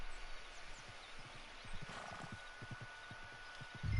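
Horse hooves clip-clopping in a steady close rhythm with a whinny in Red Dead Redemption 2, set against low ambient wilderness sound.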